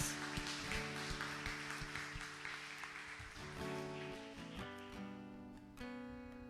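A church congregation at a celebration service applauds in a sustained wash of clapping, moderately distant, while sustained keyboard or organ tones hold underneath and gradually take over as the clapping thins out.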